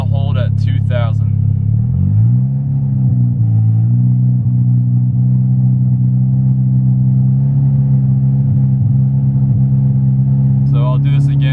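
A Volkswagen MK6 Golf R with a big turbo is held at a steady 2,000 rpm. It makes a loud, constant low engine drone after a short rev rise near the start, and a brief higher blip sounds at each end.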